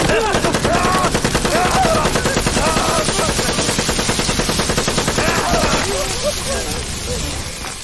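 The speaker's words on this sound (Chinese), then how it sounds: "我明明打了一梭子弹。" Burst of automatic gunfire in a Chinese fantasy adventure film, a rapid, loud, close string of shots that fades toward the end.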